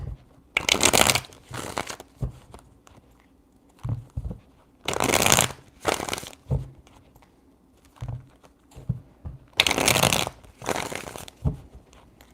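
Tarot cards are shuffled three times in crisp riffling bursts, with quieter tapping and handling of the deck between them.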